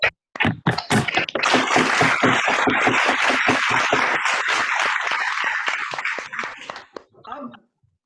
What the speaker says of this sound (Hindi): एक बार जोरदार तालियां बजाकर हमारे मुख्य अतिथि श्री इंद्रमल जी साहब का